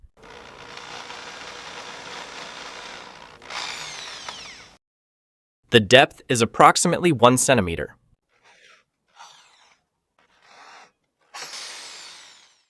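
An electric drill runs with a 1.5 millimetre bit, boring an angled hole into the side of a small wooden piece. A steady whir lasts about four seconds, followed by a short burst of speech and a few faint, brief bursts of drilling.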